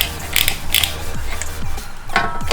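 Ratchet working on the 18mm brake caliper bracket bolts of a BMW E90 during a rotor and pad job, a few quick rapid clicking bursts and metallic ratcheting sweeps, close and fairly loud.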